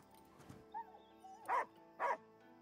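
A dog in the video game Last Day of June gives a couple of soft yips, then two loud, clear barks about half a second apart. The barks come over a quiet background with no talking.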